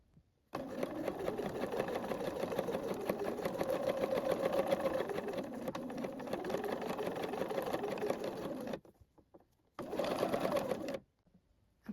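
A sewing machine stitching dress fabric runs in a steady, loud mechanical whir for several seconds, stops briefly, then runs again in a short burst before going quiet.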